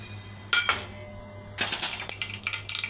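Mustard seeds and cumin drop into hot oil in a pressure cooker, giving sharp metallic clinks and a burst of quick crackling taps at close range, with no talk.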